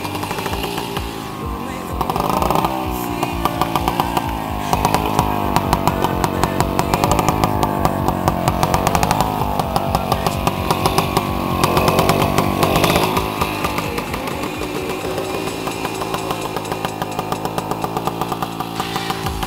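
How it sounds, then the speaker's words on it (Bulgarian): Motorcycle engine started and revved hard, a loud rasping buzz that rises and falls in repeated throttle bursts before settling into a choppy idle, close to the listener. "Сега ще ви покажа как се пали мотора в женски ръце."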